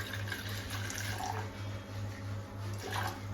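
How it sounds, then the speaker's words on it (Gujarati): Water runs steadily into a pan on a home stove for making tea, a soft continuous splashing flow heard close up with no talk over it. "પછી નાખીએ પાણી"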